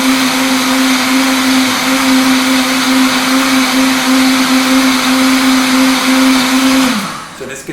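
A blender runs loud and steady, breaking down almonds for almond milk with a constant motor whine, then winds down abruptly near the end.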